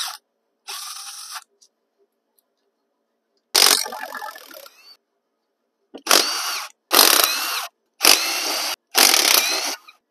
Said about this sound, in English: Now we can just go to town with all the case bolts.